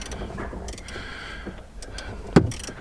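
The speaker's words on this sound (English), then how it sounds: "You just need a 10mm socket and then just loosen" Ratchet wrench with a 10mm socket loosening the battery terminal of an Audi TT in the boot, giving quiet rapid clicks and a single sharper clunk near the end, close up with no talking.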